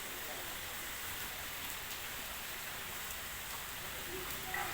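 Rain falls steadily outdoors, making an even, continuous wash of hiss that holds at the same level throughout, with a faint voice barely present underneath.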